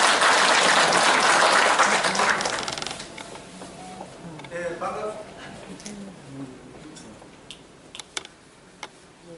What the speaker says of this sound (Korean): 여러분 뜨거운 박수로 환영해 주시기 바라겠습니다